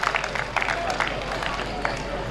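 An audience at a student felicitation ceremony in Ramlila Maidan claps for the teachers. The applause is steady, dense and moderately close, with crowd murmur and a voice over it.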